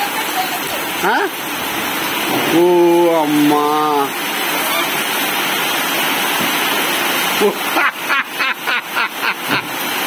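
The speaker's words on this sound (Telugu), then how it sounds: "అరే చూడు అమ్మ వాను ఎట్ట పడితే ఎట్ట" A steady roar of heavy rain pours down throughout in a village, while a voice calls out briefly over it and a few sharp squawks sound near the end.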